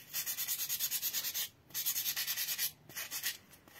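Sandpaper rubbing over a drawing on paper in quick, even back-and-forth strokes, a soft rhythmic scratching in two bursts separated by a brief pause, quiet and close with no talk.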